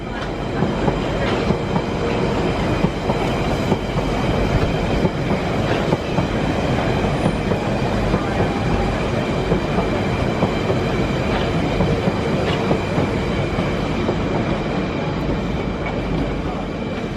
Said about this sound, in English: that's an IE Intercity Express train